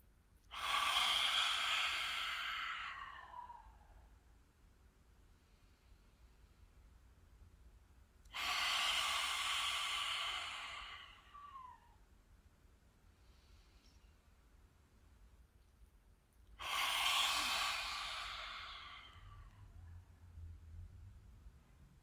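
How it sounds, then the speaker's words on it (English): Three long, deep exhalations with the tongue out, each a loud breathy rushing sigh lasting a few seconds, evenly spaced by quiet pauses with soft inhales between. "Let's take in 3 of those deep breaths"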